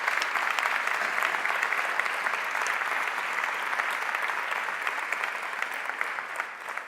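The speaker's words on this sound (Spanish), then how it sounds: "sí quiero pedir un aplauso para los 3 ponentes" Sustained, even applause from a seated audience honouring three panel speakers, a dense wash of many hands clapping at steady volume throughout.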